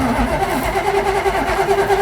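The engine of the original Vette Kart fires up and runs, giving a loud, close, steady mid-pitched rumble with a rapid, slightly uneven pulse.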